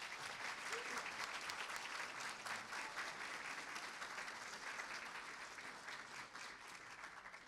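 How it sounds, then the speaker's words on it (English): An audience at a San Marino City Club Rose Court dinner applauds in a sustained, even burst of many hands clapping, heard from a slight distance and gradually easing off. "How about another round of applause?"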